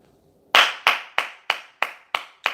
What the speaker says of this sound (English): I got to give Ryan Fitzpatrick a hand clap.